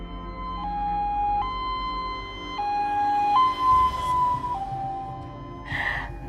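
An ambulance siren wails close and loud, its tone stepping between a few pitches, with a brief breathy noise near the end.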